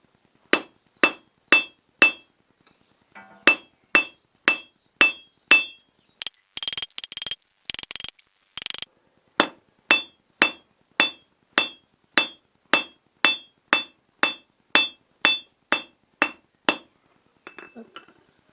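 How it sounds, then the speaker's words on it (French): A hammer strikes hot steel on an anvil while a crossbow bolt is forged, sharp ringing blows in steady rhythmic runs of about two per second, loud and close, with a brief pause of scraping and rustle midway and no talk. "avec une moitié du marteau à l'extérieur de l'enclume et une moitié du marteau sur l'enclume"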